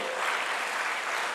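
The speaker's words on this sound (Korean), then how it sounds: "은혜신 하나님께 영광의 박수" A church congregation applauding during a Sunday worship service: a dense, even wash of many hands clapping at once, loud and sustained through the whole moment with no voices.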